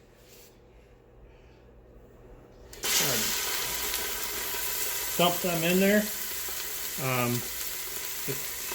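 Loud, steady sizzling of meat frying in a hot pot, starting abruptly partway through, with a voice speaking briefly over it.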